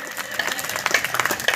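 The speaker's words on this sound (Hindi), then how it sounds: "आपकी तालियां कमजोर है" Light, patchy applause from an audience at a live Hindi poetry recital (kavi sammelan) in Mandalgarh, scattered claps rising and falling over a short stretch without speech.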